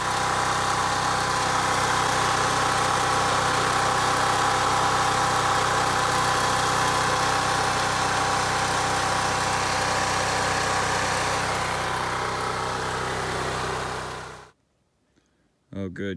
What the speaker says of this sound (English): Pretty sweet generator. I'm gonna go ahead and lube it up and see how she works.